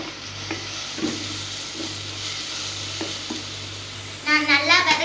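Fish sautés in a pan for Kerala fish curry, a close, steady sizzle broken by periodic spoon stirs and scrapes, with the frying crackle swelling louder near the end.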